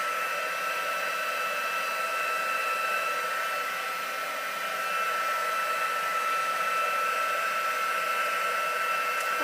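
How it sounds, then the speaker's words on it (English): A heat embossing tool blows hot air onto cardstock in a steady, continuous close whir that holds without a break. "I'll turn the heat tool off and put it to the side."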